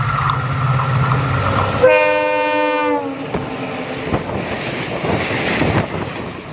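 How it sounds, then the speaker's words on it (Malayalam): An electric train on a high-speed test run at 140 km/h along the Madurai–Bodinayakanur broad-gauge line sounds a loud, sustained horn blast. A steady, close rumble of the passing train follows, with no voices. "മണിക്കൂറിൽ 140 കിലോമീറ്റർ വേഗത്തിലാണ് ട്രെയിൻ ഈ ലൈനിലൂടെ കടന്നുപോയത്."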